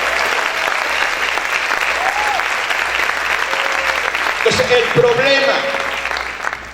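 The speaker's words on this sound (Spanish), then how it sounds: "¿Cuántos pueden aplaudir fuerte al Señor?" A church congregation applauds loudly in dense, sustained clapping that fills the whole stretch, with a voice briefly speaking over it near the end.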